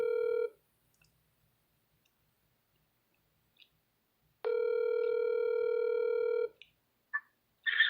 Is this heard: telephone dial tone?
yes